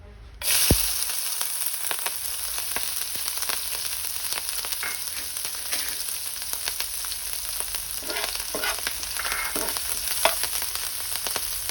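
Steady sizzling of green chili and ginger frying in hot oil, continuous crackling and spitting throughout, with occasional sharper pops and no voices.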